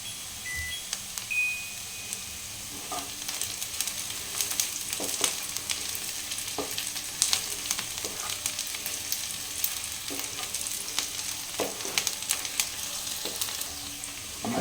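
Spiced chickpeas frying in a pan for a masala dish give off a steady, close sizzling hiss for the whole stretch, broken by occasional light clinks of stirring, with no voices.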